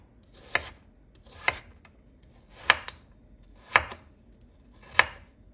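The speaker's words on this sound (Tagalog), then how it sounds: "Gaya ng carrot, hiwa-hiwain din natin ng maliliit yung patatas." Potatoes being chopped into small pieces with a knife on a board for vegetable lumpia: five crisp, evenly spaced chops, close and clear, with no talking.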